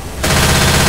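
Rapid automatic gunfire bursts out in Left 4 Dead 2 versus mode, a dense loud rattle that starts abruptly after a brief moment of quieter game ambience.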